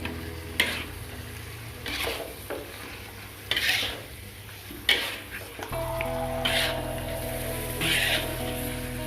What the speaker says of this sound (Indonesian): Kita aduk-aduk dulu.